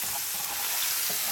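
Onion frying in a very hot pan, a steady dense sizzle with faint crackles, close and continuous with no voices.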